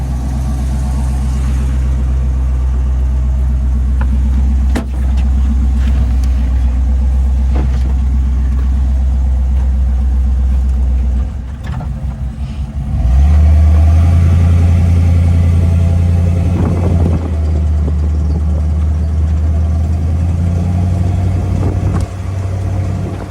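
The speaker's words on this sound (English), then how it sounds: "Tight running Bronco." A restored 1973 Ford Bronco engine runs steadily during a ride, a loud, deep rumble close by. Partway through it dips briefly, then rises to a stronger, lower drone and keeps going evenly.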